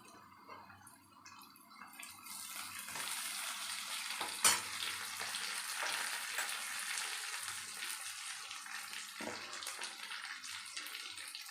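Curry leaves hit hot oil for a gram-flour fritter curry, setting off a steady close crackling sizzle with a sharp pop near the start.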